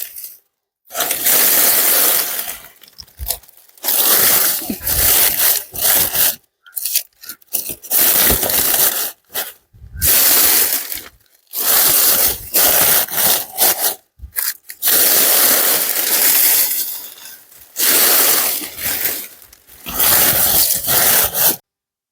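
Dry leaves are stuffed into the bottoms of grow bags for planting ginger, giving close, bursty crunching and rustling rubs in repeated handfuls separated by short pauses, with no talk.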